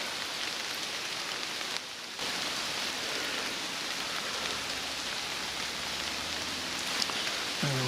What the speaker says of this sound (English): The rain stopped play, I guess.